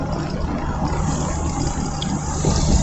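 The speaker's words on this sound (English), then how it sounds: "I hope it's that car behind me making those noises." A car engine drones steadily from close behind another vehicle on the road, a continuous low rumble with road noise that swells slightly toward the end, with no talking over it.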